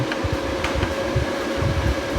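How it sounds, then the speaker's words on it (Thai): An electric fan runs steadily in a workshop near a battery and charger setup, giving a constant airy whir with a faint hum and low rumbling beneath it, fairly close. "พัดลมทำงาน"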